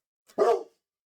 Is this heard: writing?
no